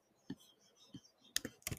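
Several sharp keystrokes tapped on a computer keyboard during a Facebook search, spaced irregularly and growing into a quick cluster near the end, faint and close with no voices.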